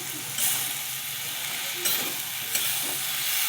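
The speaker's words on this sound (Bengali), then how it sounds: "সবজিগুলোকে আমি ভালো করে একসঙ্গে সব কষিয়ে নিচ্ছি।" Mixed vegetables, likely yardlong beans and pumpkin, sizzle in a hot pan with tomato and a splash of ginger water, a steady frying hiss broken by a few louder stirring scrapes, with no talking.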